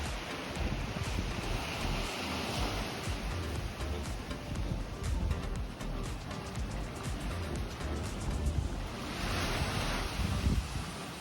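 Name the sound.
ocean waves and breeze at Kapalua Bay, Maui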